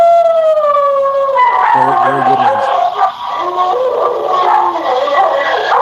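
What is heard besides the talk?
dogs howling and barking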